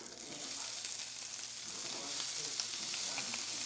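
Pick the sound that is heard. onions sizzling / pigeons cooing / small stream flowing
onions sizzling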